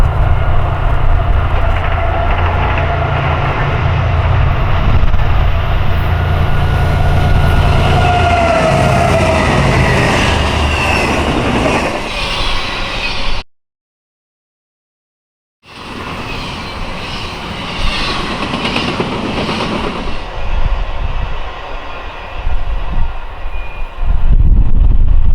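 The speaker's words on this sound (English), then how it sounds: "the next train arrived, which was an eastbound BNSF intermodal with 2 GEVOs" An eastbound BNSF intermodal freight train with two GEVO locomotives roars past loudly with heavy engine rumble and rolling rail noise, cut by a brief silent gap before the rushing train noise continues.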